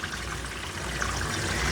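Water pours and trickles steadily while a dog is rinsed during grooming, a soft continuous splashing wash with no voices.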